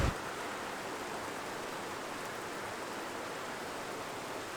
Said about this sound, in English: It's coming down pretty hard right now, so I'm just taking some shelter underneath this part of the dam.